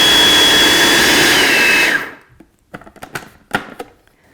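Blender running on high to blend crepe batter, a loud steady whir that cuts off abruptly, followed by a few light clicks and knocks as the machine stops.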